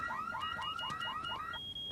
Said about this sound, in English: By the time the alarm went off